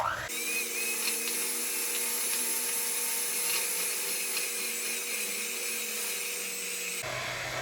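An electric mixer creams room-temperature butter with light brown sugar for oatmeal cranberry walnut chocolate chip cookie dough, a fairly quiet, steady motor whine with a faint rubbing churn, running without a break.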